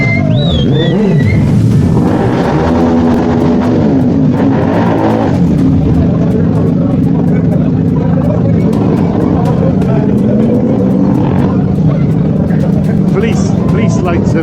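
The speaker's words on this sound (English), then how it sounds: "A few of the local biker lads put on a back tyre burnout show in between the" Local bikers do a back-tyre motorcycle burnout between fuel pumps at a Portuguese biker festival. Loud engine revs rise and hold, mixed with a steady roar and crowd noise.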